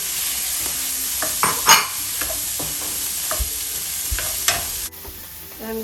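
Chicken hits a hot pan for chicken fried rice and fries with a steady loud sizzle while a utensil scrapes and stirs in several sharp strokes, the hiss dropping abruptly near the end.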